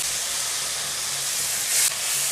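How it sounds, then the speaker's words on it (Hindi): Dry coriander and garam masala roast in a hot pan with a steady, loud hiss, a continuous sizzle that swells briefly near the end. "ये हमारा मसाला जो है बहुत ही ज़बरदस्त भुन गया है"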